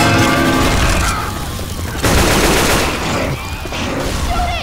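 Rapid bursts of gunfire from the zombie shooter game Left 4 Dead 2 play during a mall level, loud and dense, with booming shots overlapping in continuous volleys.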